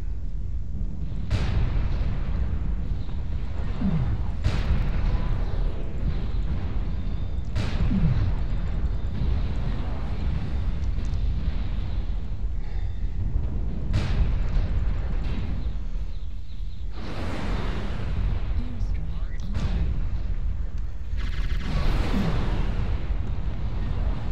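Mech weapons fire and explosions in the video game MechWarrior Online, with repeated sharp blasts and booming impacts over a steady low rumble of combat, loud and continuous throughout.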